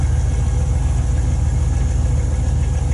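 A Range Rover P38 engine runs steadily at close range with a low, throbbing rumble and a loud, even tone, and no clear rise from a throttle blip.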